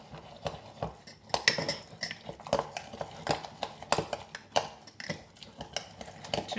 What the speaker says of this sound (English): So I'll use a smaller spoon just to stir that in.